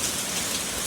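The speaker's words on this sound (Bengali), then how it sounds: "ভালো বৃষ্টি হচ্ছে।" Heavy rain pouring outside, a dense, loud, continuous hiss of drops hitting surfaces with no break.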